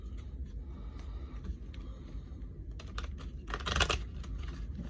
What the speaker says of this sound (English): I'm shuffling like a crazy person today.